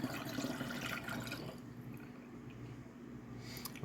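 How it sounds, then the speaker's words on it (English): Rum poured into homemade coffee liquor: a steady liquid trickle and gurgle for about a second and a half, tapering into a softer, quieter flow. "And then I'll pour in the rum."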